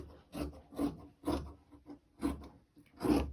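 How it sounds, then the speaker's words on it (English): Scissors cut through a strip of scrap t-shirt fabric in about six rhythmic, rasping snips. The cuts are close and moderately loud, with brief pauses between them. "you'll just want to cut up a piece of scrap t-shirt fabric"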